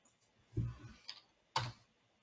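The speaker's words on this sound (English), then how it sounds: "you can start typing" A few quiet computer keyboard keystrokes while typing a function name into Mathematica, a soft cluster of taps followed by one sharper click, close and alone in a quiet room.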